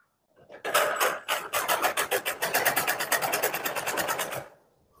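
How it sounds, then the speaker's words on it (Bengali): Sewing machine stitching two layers of petticoat fabric, a fast steady run of rhythmic needle clatter that starts abruptly, holds close and loud for about four seconds, then stops. "সেলাই করার সময় লক্ষ্য রাখতে হবে এখান থেকে যেন দুটো কাপড় একদম বরাবর থাকে"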